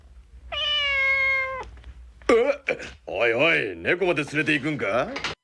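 A cat meows in one long, drawn-out, clear cry up close, followed by a person talking over a few seconds.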